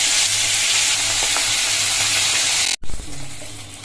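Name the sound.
hilsa fish head frying in oil in a wok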